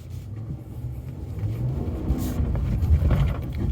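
A heavy 2022 Ram truck spinning donuts in a yard with traction control off gives a low engine rumble that rises and revs toward the end, rough and close with no talking.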